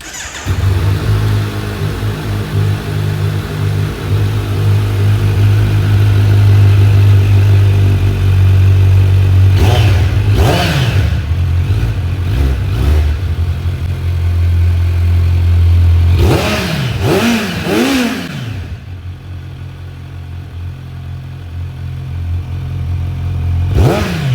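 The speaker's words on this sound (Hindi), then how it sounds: "माइक निकाल के आप सुनते हैं कि एग्जॉस्ट साउंड कैसा है, रॉ एग्जॉस्ट साउंड" A 2025 Kawasaki Z900 four-cylinder motorcycle idles with a deep steady rumble through its raw exhaust, then revs sharply in several bursts and falls back to idle. It is loud and close, with no talking.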